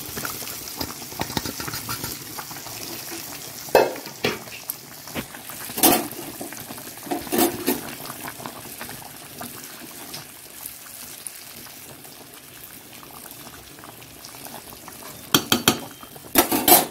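Fish frying in hot oil in a pan, a steady low sizzle broken by scattered spatters and utensil clinks, close and moderately loud, no talk.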